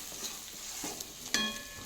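Onion, chili, garlic, cumin seeds and mustard seeds frying together in a pan with turmeric, red chili powder and salt, a quiet steady sizzle with a few soft scrapes of stirring and one sharper clink near the end.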